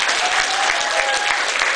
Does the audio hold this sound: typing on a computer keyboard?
no